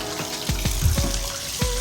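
Water splashes and swishes around a small dish as clipper hair is rinsed out, with several sharp sloshing bursts in a steady run of running water from a tap, close and fairly loud.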